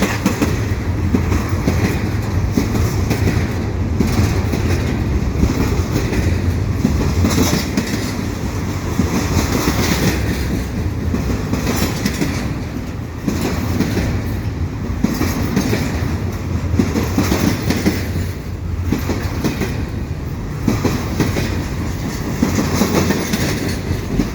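A CP freight train rumbles past up close at Beaconsfield, wheels clattering steadily over the rails in a continuous loud roar with no voices.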